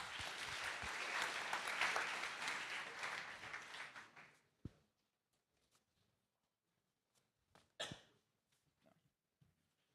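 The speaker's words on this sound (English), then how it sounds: "Please give him a big round of applause." Audience applause at a hackathon closing ceremony in Paris, a loud steady burst of clapping lasting about four seconds before fading out, followed by near silence with a few faint scattered noises.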